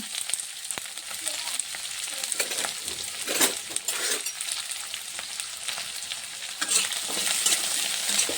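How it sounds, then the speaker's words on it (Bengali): Ginger, garlic, onion, green chili and garam masala fry in hot oil, a close crackling sizzle with scraping stir strokes that swell and fade irregularly. "এবার মশলাটা ভাইজা তুলে নেই আদা রসুন পেঁয়াজ কাঁচামরিচ তারপরে যে গরম মশলা"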